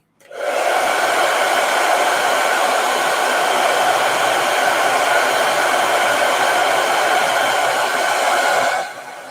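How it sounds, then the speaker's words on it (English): A blow dryer runs steadily for about eight seconds, drying freshly painted detail on a model scabbard in a hobby workshop. It starts abruptly, holds a loud, even whir, then cuts off near the end. "Let me hit that with a blow dryer."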